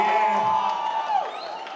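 A studio crowd cheers and whoops for a DJ at a packed Hungarian DJ team party; the noise is brief, fairly loud and steady, with a slight musical ring underneath.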